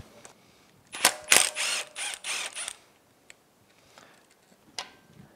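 Ratchet wrench removing the timing chain tensioner from a Yamaha F225 outboard powerhead during teardown: a short burst of quick clicking and metallic rattling near the start, then sparse light taps.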